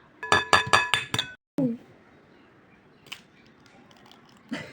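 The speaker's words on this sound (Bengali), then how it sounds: "চামচ দিয়ে এখন ভালো করে লেড়ে নিব।" A spoon clinks rapidly against a bowl of egg pudding mixture, five or six bright metallic taps in quick rhythm, followed by a brief scrape and a few scattered, quieter clinks afterward.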